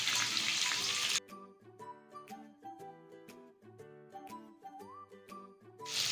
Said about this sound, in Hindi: सबसे पहले मैं प्याज जो है वो फ्राई कर लूँगी।